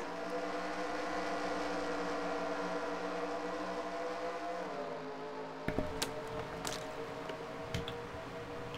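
Race cars in a racing video game pull away from a pace-car restart on the Canyonland track during the Grand Canyon 500, a dense droning chorus of engines that shifts pitch as they accelerate, followed by scattered sharp clicks.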